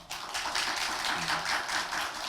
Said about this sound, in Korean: 우리 성도님들 격려의 박수 한번 해주시면 좋겠습니다